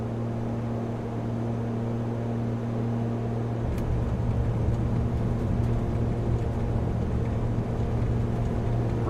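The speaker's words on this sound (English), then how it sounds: "Reversers are out." Simulated airliner, an ATR72-600 turboprop in Microsoft Flight Simulator, roars steadily on landing as thrust reversers deploy, a loud broadband rumble with steady engine tones that thickens and swells partway through.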